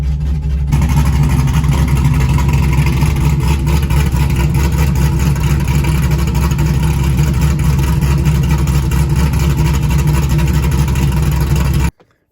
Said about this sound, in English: I let the motor warm up